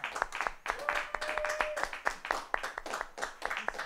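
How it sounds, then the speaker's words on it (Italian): An audience at a live Thursday evening set applauds, a light scatter of individual hand claps rather than a dense roar, fairly faint, with a voice briefly audible. "Facciamo un altro applauso."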